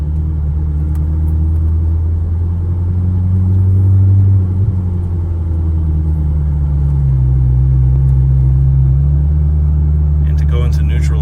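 A 2001 Ferrari 360 Spider engine, finished in Tour de France Blu, rumbles at a low steady idle while the car pulls over and slows, with a faint clatter near the end.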